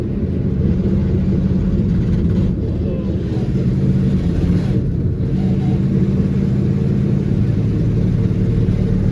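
A Chevy Nova engine runs rough and misfires, a loud, steady, close low rumble that stays uneven and continuous throughout.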